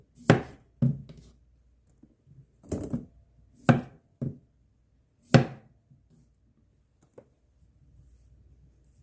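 A knife cuts cucumbers into thick slices for water-bath-canned pickles, giving a few separate crisp chops in short bursts with quiet gaps between them.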